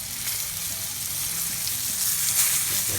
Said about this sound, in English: I can hear my mushrooms over here sizzling